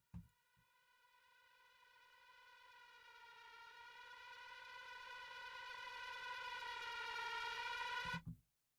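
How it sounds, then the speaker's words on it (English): A dry synth patch from the free Vital synthesizer plays alone as one rich sustained tone with many harmonics. It swells slowly louder over about eight seconds, then cuts off abruptly. "Synth dry just sounds like this out of idle."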